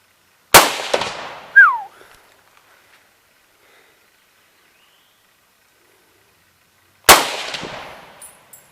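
Two sharp, loud rifle shots from a Hakim rifle several seconds apart, each with a ringing echoing tail, a metallic clink just after the first, and no talking.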